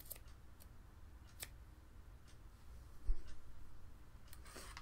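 Scissors trim a yarn tail on a knitted hat, giving a few faint, sparse snips and clicks against a quiet background.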